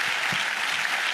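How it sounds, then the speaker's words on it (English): Audience applause for the two moderators at a presidential forum on environmental justice, a brief dense burst of clapping from a large crowd filling the room. "Give them both a round of applause."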